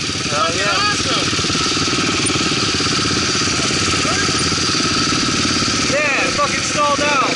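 A motorcycle engine runs steadily and close by with a rough, uneven note, then stalls out.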